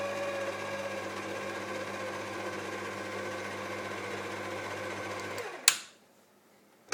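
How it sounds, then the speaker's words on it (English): An electric mixer beating cream into batter for a Swedish white chocolate cake: a steady motor whir runs evenly for several seconds, then stops with a sharp click, leaving near silence. "I'm going to let the mixer beat that in for a little bit"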